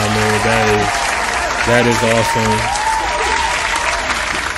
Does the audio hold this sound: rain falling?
no